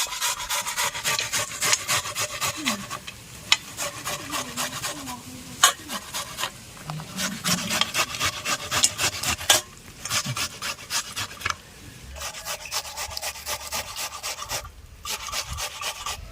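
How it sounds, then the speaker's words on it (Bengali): Watermelon grated by hand for juice, repeated rasping scrapes in a quick back-and-forth rhythm, close and fairly clear, with brief pauses between runs of strokes. "এবারে গ্রেট করে নিচ্ছি"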